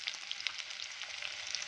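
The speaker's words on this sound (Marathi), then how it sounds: "आता यामध्ये आपण बारीक चिरलेला कांदा ॲड करूया. कांदा छान 1 मिनिटभर परतून घेऊया." Finely chopped onion sizzles and fries in hot oil for egg bhurji, a steady bright crackling hiss with small pops, close and continuous with no talk.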